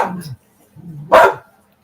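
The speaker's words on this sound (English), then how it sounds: "He's barking at you, making little noises." A dog gives a single short bark after a stretch of low background noise and faint murmuring, close to the listener and fairly loud.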